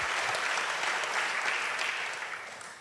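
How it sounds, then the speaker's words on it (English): A conference audience claps in steady, dense applause that holds strong through most of the stretch, then thins and fades toward the end, with no one speaking over it. "yes, you deserve applause"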